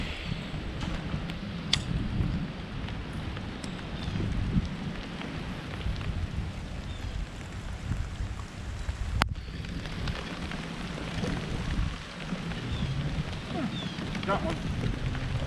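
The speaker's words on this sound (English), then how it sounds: "It's already raining pretty good down there." Steady rain falls continuously over a lake in a dense outdoor hiss, with a low rumble underneath and an occasional sharp tap.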